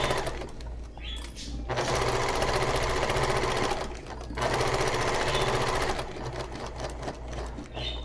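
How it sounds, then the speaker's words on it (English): A sewing machine bastes along a straight seam on fabric for a Moroccan-style storage ottoman, loud and close, running in long steady bursts separated by short pauses. "I am going to baste along the rest of this straight line."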